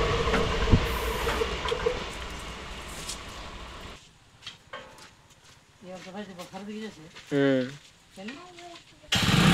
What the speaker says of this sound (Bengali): এতক্ষণের পর শেষ হলো ট্রেনটা